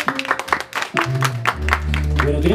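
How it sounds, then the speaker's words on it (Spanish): An audience claps for a mariachi band at a quinceañera celebration, a short burst of scattered applause mixed with crowd voices and some background music. "¿y será que el mariachi se merece un aplauso?"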